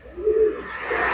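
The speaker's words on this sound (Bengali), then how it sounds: "লাল চোখের একটা মাদি কবুতর" A red-eyed female racing pigeon from the BRPL club gives a single short, soft coo, close by and fairly quiet.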